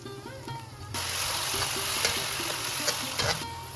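Ground tomato paste added to hot oil for vegetable korma, a sudden loud sizzle that erupts about a second in and keeps hissing steadily, with faint tonal sounds before it.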